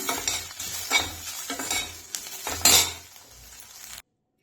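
Okra (bendekayi) frying in a pan for a Karnataka-style palya, a soft steady sizzle under repeated scraping and stirring strokes of a metal spoon with light clinks, close by, ending abruptly in silence.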